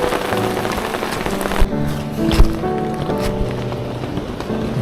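Steady rain patters on a surface nearby, with a few louder drops and thuds over a dense wash of falling water, in a rainy-season forest at Khao Men, Nakhon Si Thammarat, Thailand.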